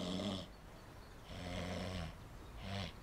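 A person's voice imitates snoring, producing three drawn-out, rasping inhaled snores separated by short pauses, close and fairly quiet.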